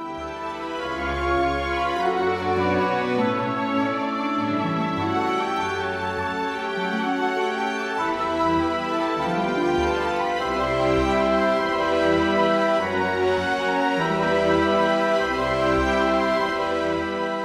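Orchestral playback from the MuseScore 4 Muse Sounds plugin, with dense sampled strings and low instruments playing a full, continuous passage at moderate loudness, no voices.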